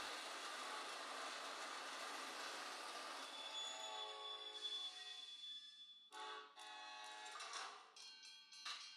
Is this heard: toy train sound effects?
yes